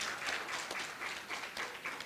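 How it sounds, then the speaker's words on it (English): A faint patter of audience applause at a Women's Day event continues steadily for a couple of seconds, heard at a distance with no speech over it. "That deserves a round of applause."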